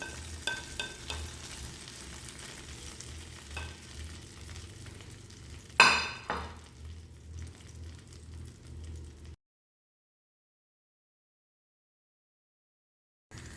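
Fried eggplant being sautéed in a frying pan with no added oil, a faint sizzle and scattered spatula scrapes, one louder clatter midway, then the sound fades to silence.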